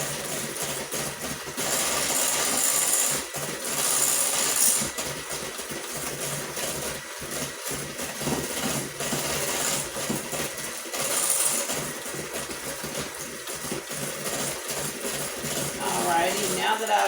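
An electric mixer runs continuously through cookie dough after an egg and an egg yolk are added, giving a steady close motor whir with slight rattling variations, while someone talks over it.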